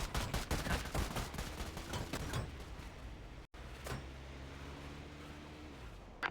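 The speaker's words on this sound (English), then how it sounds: "Dispatch, be advised, multiple shots fired at Gang House 2, several suspects." A rapid volley of gunshots at a gang house, recorded on a police body camera, with sharp cracks in a fast burst, then a brief dropout and a few more scattered distant bangs over background noise.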